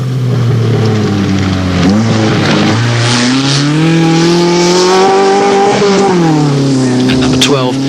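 A Toyota Rover Buggy rally car at a 1987 safari-style off-road event roars past at speed, its engine loud and close and sweeping in pitch as it revs, while a commentator talks over it.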